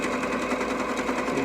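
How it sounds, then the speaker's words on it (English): A sewing machine runs a zigzag stitch, a fast even rattling whir held steady and loud at close range with no pauses or talk. "you sew down one side"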